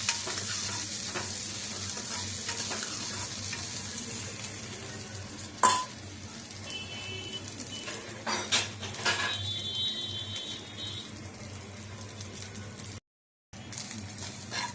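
Mint leaves fry in a hot pan with a steady close sizzle and soft stirring scrapes, plus one sharp clack partway through.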